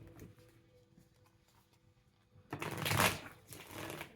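After a quiet stretch, a short riffle of cards being shuffled rises up, a quick papery flutter lasting about a second and a half.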